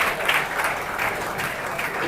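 Home crowd at a Healdsburg Prune Packers baseball game at Rec Park, Pacific-Empire League, cheering and clapping in a steady, continuous roar that stays even throughout the short stretch.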